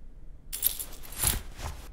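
In The Raven 2 video game, keys are taken from a guard, and a short, bright metallic jingle bursts in after silence, loud and clear, and fades over about a second and a half.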